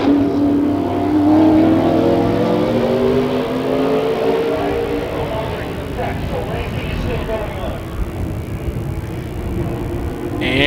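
A race car at a Toyota SWS race rolls toward the pits, its engine giving a fading, wavering drone with rising and falling pitch beneath ongoing commentary.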